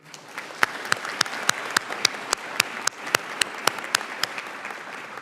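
An audience at a pharmacy school white coat ceremony applauds the students, a steady crowd of clapping with several close, sharp individual claps standing out in a regular rhythm.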